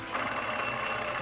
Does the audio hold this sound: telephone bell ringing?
yes